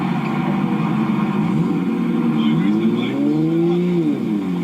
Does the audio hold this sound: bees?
no